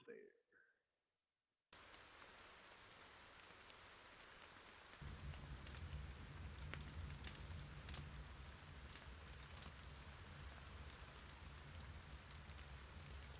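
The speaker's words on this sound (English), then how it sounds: "And the rain is falling down. The campfire noise is happening" Steady rain falling with campfire ambience, a dense continuous hiss that deepens into a low rumble partway through, constant and enveloping after a brief quiet start, with voices faintly present.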